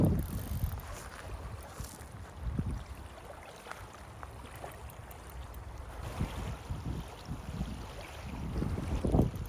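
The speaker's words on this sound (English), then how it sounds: "Lovely morning here. Southwesterly wind." A southwesterly wind blows across a reservoir in Ireland on a quiet morning, making steady low rumbling gusts and microphone buffeting that swell and fade, with faint lapping water beneath and no speech.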